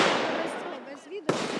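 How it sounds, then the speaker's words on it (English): Sharp explosive bang from military training drills in a forest outside Kyiv, one sudden loud crack near the end, following a stretch of talk. "It's gonna be explosions."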